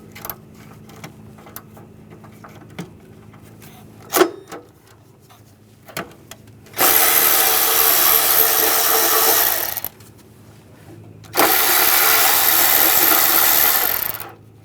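A 10mm socket loosens the heat-shield bolts above the exhaust manifold on a 2013-2018 Hyundai Santa Fe: a few scattered clicks and taps, then two loud sustained buzzing tool bursts of about three seconds each.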